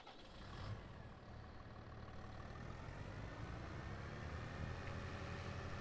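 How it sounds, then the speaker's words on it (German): Tractor hauling a water tank in the Farming Simulator 22 game, a steady droning engine with low rumble that holds level and unbroken throughout, with no talk. "Dazu nehmen wir jetzt mal diesen Traktor mit dem Wassertank."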